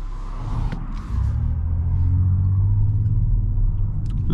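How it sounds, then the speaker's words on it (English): Passing car heard from inside a new BMW, a low rumbling wash that builds and holds steady for a few seconds, moderately loud and without voices. "Right, I've got the car coming."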